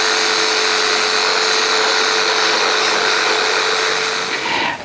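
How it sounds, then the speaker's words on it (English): A saber saw cuts through a thick root of a field-grown trident maple, a loud, close, continuous buzzing whine that holds steady for several seconds before tapering off at the end. "to do that I'm going to be using a saber saw"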